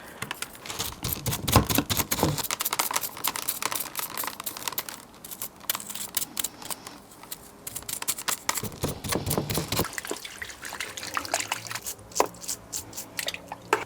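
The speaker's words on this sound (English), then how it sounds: "I like to actually work at the water and just loosen the soil up like this." Soil is rinsed from the roots of a pot-bound bonsai tree in water, giving a close, busy stream of splashing, dripping and crackling sounds with uneven bursts of sloshing throughout.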